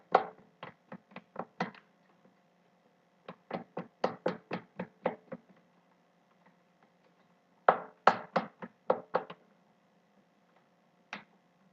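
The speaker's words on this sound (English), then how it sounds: "I'm going to take my wooden spoon again. And I am going to stir and mix in my shea butter" A wooden spoon clacks against the side of a container while stirring a shea butter mixture, in quick bursts of light rhythmic taps with short pauses between, close and fairly faint.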